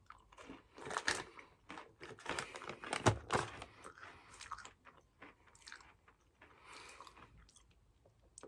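Crunchy bites and chewing of a salted caramel covered pretzel sound up close, as irregular crisp crunches that fade into softer chewing.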